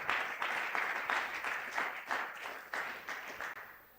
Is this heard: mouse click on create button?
no